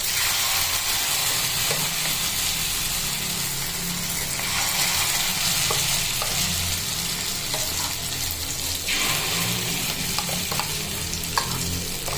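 Egg fritter with onion and chilli frying in a pan of hot oil on a griddle with the gas turned off, a steady close sizzle with occasional stirring clicks running throughout, no talking.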